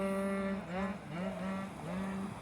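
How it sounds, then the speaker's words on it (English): Souped-up Vespa scooter with a modified engine passing on a street in northern Italy, its buzzing, harmonic-rich engine note wavering as it revs and shifts, steady and fairly loud throughout. "this young guy just rode by on a Vespa, or a souped up one. He's modified the engine. You can hear that."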